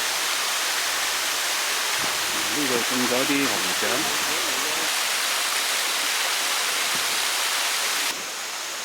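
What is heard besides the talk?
artificial waterfall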